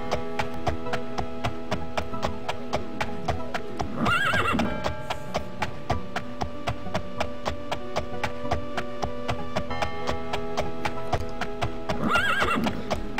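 A horse in the video game The Elder Scrolls II: Daggerfall clip-clops in a steady, even rhythm over a humming backdrop, neighing twice, once early and once near the end.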